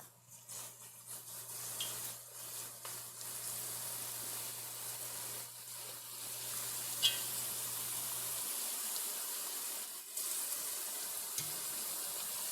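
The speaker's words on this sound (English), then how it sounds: "Okay, we are frying." Potato chips for barbecue crisps sizzle in hot oil at high altitude, a steady bright crackling hiss with a low hum during the first part and a few louder pops, without any talking.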